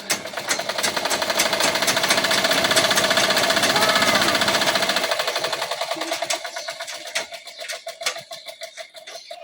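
Rapid, rattling mechanical stitching of a sewing machine running close and loud, then slowing into shorter uneven bursts before stopping.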